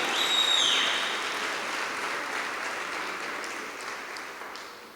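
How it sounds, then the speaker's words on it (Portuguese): A church congregation applauds at a conference service, a dense, sustained wash of clapping that swells early and slowly tapers over several seconds. "Quem pode bradar de vitórias, aplaudir ao Senhor?"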